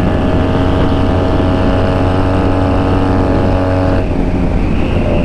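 A Honda Rebel 250 motorcycle engine drones loudly and steadily while riding, with a brief dip in pitch near the end like a gear change.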